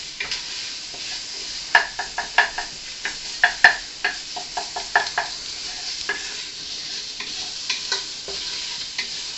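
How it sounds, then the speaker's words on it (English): Green chorizo sausage sizzles softly in a pan, a low steady crackle with a run of crisp knocks and scrapes as it is stirred and browned, nearby and moderately loud. "we have this amazing green chorizo sausage, which has a lot of the similar ingredients that we're putting. All right, so we're cooking our sausage."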